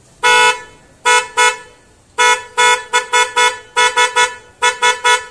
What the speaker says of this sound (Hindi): अब टेस्ट कर लेते हैं हम हमारा हॉर्न पैड भी वर्क कर रहा है या नहीं